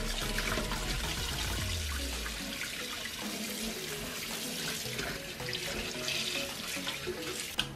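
Vegetables washed under a running kitchen tap for a Japanese nikujaga beef stew, a steady close hiss and splash of flowing water lasting the whole stretch at a fairly even level.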